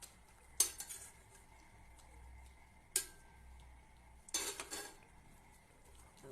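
Fried food flipped and stirred in a pan, with three sharp metallic clinks and scrapes of a utensil against the pan, spaced a few seconds apart, over a faint quiet background.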